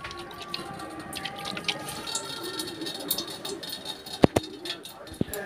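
Coconut water trickles and drips out through a hole punched in the soft eye of a coconut with a screwdriver, a soft irregular patter with a few sharper drops near the end and a faint voice in the background.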